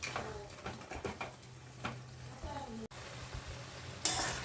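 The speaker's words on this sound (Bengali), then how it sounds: "আলুগুলো আমি এর সঙ্গে মিক্স করে দিলাম" Fried potatoes mixed into a fish head curry cooking in a pan, a faint low sizzle with soft scrapes and stirring knocks and a brief louder rustle near the end.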